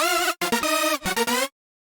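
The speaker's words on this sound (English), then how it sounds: "So you kind of create a manual reverse reverb with this compared to just opening up the" Bright, heavily distorted hardstyle lead with a manual reverse reverb, produced by setting the reverb decay to 100 and reversing the mix, so each note swells in with a sucking effect. The phrase is loud and choppy, broken by short gaps, then cuts to silence.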